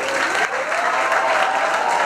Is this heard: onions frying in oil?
no